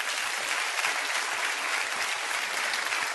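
Audience applause in a live comedy monologue about Argentine history, a dense steady wash of many hands clapping at close range that fills the whole stretch without any voices.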